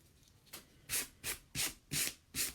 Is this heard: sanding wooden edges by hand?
yes